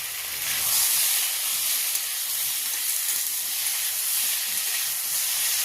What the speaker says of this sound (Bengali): এবারে কেটে রাখা টমেটোটা দিয়ে দিচ্ছি, আবারও নাড়াচাড়া করে ভেজে নিচ্ছি।